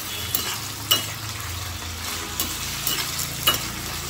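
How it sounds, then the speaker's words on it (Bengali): Potato and cauliflower sizzling in hot oil for a navaratna korma, with a bright continuous fry hiss and periodic spatula scrapes against the pan. "দিয়ে আবার ভালো করে নাড়িয়ে নেব।"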